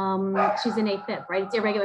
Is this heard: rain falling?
no